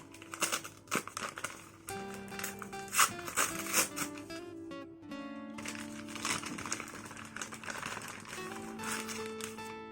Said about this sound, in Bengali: এই মাইকটা খুলছি